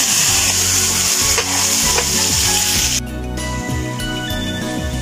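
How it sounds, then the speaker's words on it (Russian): Moose meat and tomatoes fry loudly in a pan while being stirred, a dense close sizzle with rhythmic scraping strokes that drops slightly in intensity partway through. "Обжариваем примерно где-то минуточек 5, помешивая, чтобы у нас ничего не пригорело."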